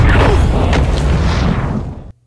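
A loud, deep bomb explosion boom from the film Sonic the Hedgehog, with rumbling debris that rolls on for about two seconds before cutting off abruptly.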